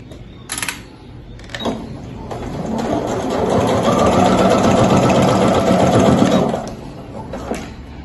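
A sewing machine stitches plastic trellis mesh for a beach bag: a few short clicks and starts, then a steady, loud mechanical whir that runs for several seconds before stopping.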